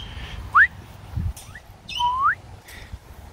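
A few clear bird whistles and chirps, rising and sweeping notes spaced apart, with soft rustling between calls.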